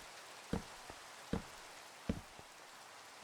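Rain in the Minecraft video game falls as a few sparse, soft taps and drips at spaced intervals over a faint, steady hiss, quiet and close.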